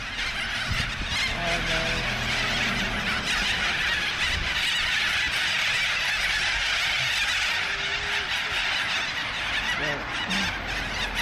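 Geese honk repeatedly over a dense, steady wash of background noise, the calls coming in scattered bursts and a few sharper squeals.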